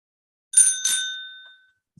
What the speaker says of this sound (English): I don't know where the bell came from.